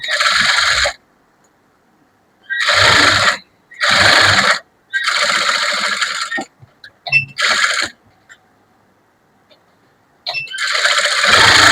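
A sewing machine stitching a blouse lining runs in several short, loud whirring bursts of about a second each, separated by silent pauses and a few faint handling clicks, close up with no talking.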